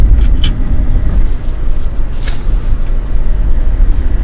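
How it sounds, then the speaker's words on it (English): Steady low road rumble and wind buffeting inside a car driven with the windows down on a cold morning delivery route, loud and continuous with a few brief rattles. "I am riding around with my windows down, freezing my butt off"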